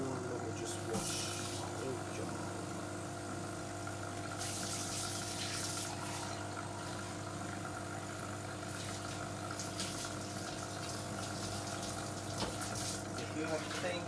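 Running water rinsing at a coffee machine, a low steady gush with a pump-like hum beneath, fairly quiet and continuous with brief louder splashes.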